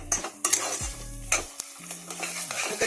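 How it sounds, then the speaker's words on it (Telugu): A spoon stirs lapsi, a cracked-wheat sweet, with ghee, raisins and fried dry fruits in a pan. Close scraping and clinking strokes come over a soft sizzle, with a few sharp taps of the utensil against the metal. "అందులోనే ఎండు ద్రాక్ష, 1 స్పూన్ ఘీ వేసుకోవాలి. బాగా మిక్స్ చేసుకుందాం."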